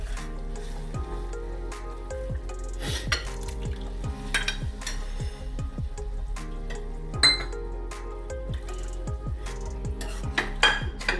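Cooked pav bhaji vegetables mashed in a metal pan with a masher or spoon, giving repeated squishy thuds, scrapes and clinks in an uneven rhythm over a soft, continuous sizzle, close and fairly loud.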